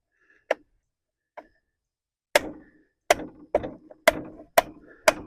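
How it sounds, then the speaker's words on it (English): A hand hammer taps a part into place on a Cub Cadet engine: two light ticks, then six sharper metallic knocks in an uneven rhythm, close up. "Use your hand hammer, pop it on."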